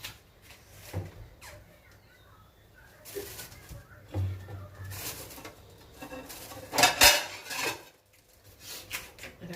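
Utensils scrape and clink against dishes as stir-fried five-spice dish is moved onto a large plate, with scattered clatters and a couple of louder knocks nearby.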